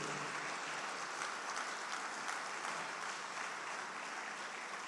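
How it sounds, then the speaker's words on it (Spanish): A church congregation gives the Lord a strong round of applause, a steady, even wash of many hands clapping together at moderate distance, with no voices standing out. "Dele un fuerte aplauso al Señor."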